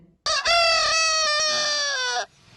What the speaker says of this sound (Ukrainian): Це сім'я курей, тату півник.